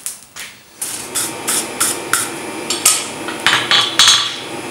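Hammer blows ring out on a steel round punch being forged on an anvil, about a dozen sharp metallic strikes in an uneven rhythm, loud and close with no talking.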